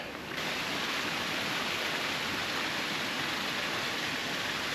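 Constant rushing of creek water, loud and close, in Yosemite between Wawona and Glacier Point Road, starting just after a brief quieter moment and holding steady with no talking.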